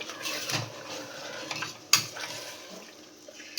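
Mutton with masala sautéing in oil in a pot, soft sizzling under scraping and stirring, with one sharp metallic clink of a spoon against the pan partway through; no talking.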